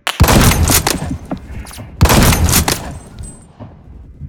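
Gunfire in the video game Phantom Forces, two loud, close bursts of rapid shots about two seconds apart with a rumbling tail fading out at the end.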